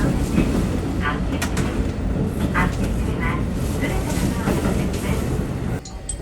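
A train runs on the Hanasaki Line in Hokkaido beside Lake Akkeshi, heard from inside as a continuous loud rumble with rail noise. A voice speaks over it.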